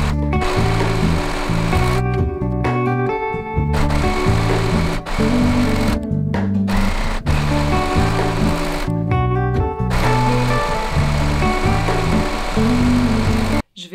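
A sewing machine stitches black lining seams in a steady, loud, rhythmic whir, with brief pauses and restarts, running close and almost without a break.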